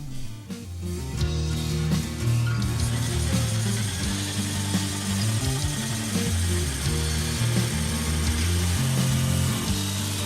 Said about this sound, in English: I'm going to freehand the piece using my jigsaw.